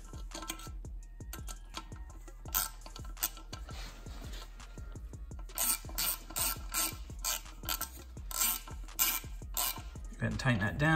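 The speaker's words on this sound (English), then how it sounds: "Go ahead and tighten that down." Ratchet turning a T20 Torx bit on a BMW N54 charge pipe and blow-off valve install, rapid bursts of close, crisp clicking in repeated strokes, with brief pauses between.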